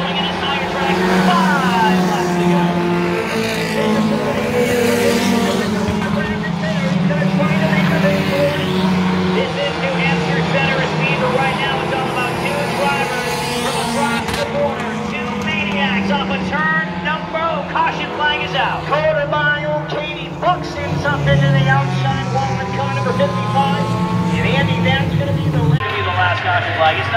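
Pure Stock race cars roar continuously around Lee USA Speedway, their loud engines droning and shifting pitch as they come off a turn, while an announcer commentates over the pack throughout.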